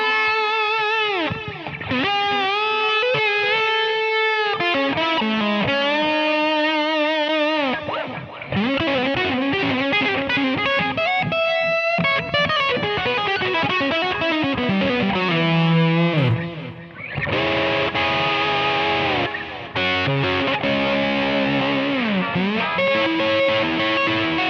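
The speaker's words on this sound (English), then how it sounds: "with a little bit of a boost from a pedal, you get that mid-range snortiness that you get off a tube screamer or a Klon. It's a really usable drive sound." Electric guitar played through a Line 6 POD 2.0 overdrive boosted by a pedal, with delay and stereo slap echo, gives a loud, continuous mid-heavy driven tone with chords and single-note lines, and no voices.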